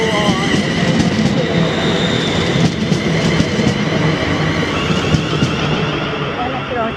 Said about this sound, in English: Then coming round the bend was 2G48, the 1413 ScotRail service to Glasgow Central from Gilmour.